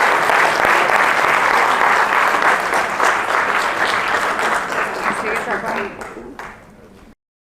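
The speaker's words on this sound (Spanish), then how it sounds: "gracias por sus aplausos" A seated audience at a pulmonary hypertension awareness event applauds in loud, dense clapping that holds steady, then thins and fades out over the last seconds before silence.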